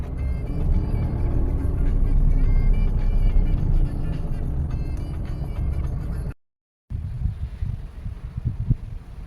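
Road traffic rumbles loud and close, a dense wash of engine noise from passing cars, then cuts to silence and resumes as a lighter, uneven hum of vehicles.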